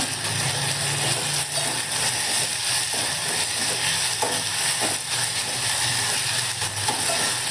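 Tomato and coriander frying in a pan for a sprouted horse gram masala sambar, giving a steady, dense sizzle with faint stirring throughout, close and continuous, with no talking.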